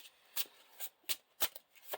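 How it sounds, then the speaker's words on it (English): A deck of playing cards for a living card game is shuffled, the encounter discard pile going back into the encounter deck, giving five quick crisp riffling bursts spaced across two seconds, close and fairly quiet. "shuffle the encounter discard pile into the encounter deck"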